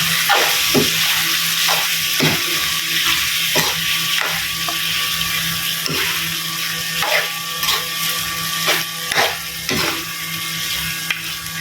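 Meat frying in a pan gives a loud, steady sizzle, and a spoon stirs and scrapes the pan in repeated short strokes throughout.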